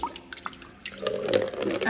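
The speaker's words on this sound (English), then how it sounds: "I can rinse this bowl out" Water runs while a kitchen bowl is rinsed, with a few faint drips and small clinks in the first second, then a steady splashing rush of tap water from about the one-second mark to the end.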